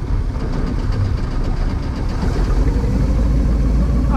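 A $500 big-block boat engine revived after years of sitting runs steadily on the water, a loud, continuous low rumble that stays even throughout.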